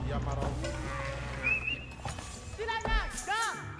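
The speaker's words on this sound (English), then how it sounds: "Once RecoN can get some more cattle out here, he can start filling up that ranch too" Cattle lowing on a ranch in a StarCraft-style strategy game match, a few brief synthetic moos rising near the end beneath continuous excited commentary.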